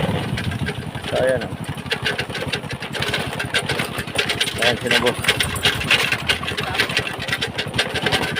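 Motorcycle engines idle and rev unevenly nearby while people talk over the steady mechanical chugging.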